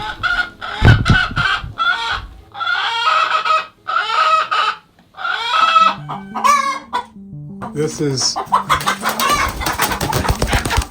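Hens in a nest box where they have been attacking eggs make repeated clucks and squawks in bursts, close and fairly loud, with a short spoken phrase near the end.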